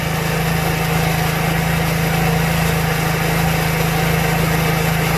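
A motorcycle engine holds a steady, high idle while its carburetors are being synchronized, a constant loud drone with a strong low hum and no talking.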